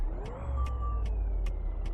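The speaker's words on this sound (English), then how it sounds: "Sometimes it makes that beep beep sound, and I don't know why it does that." A truck's reversing alarm in American Truck Simulator chirps five evenly spaced short beeps over a steady low engine idle, with no voices.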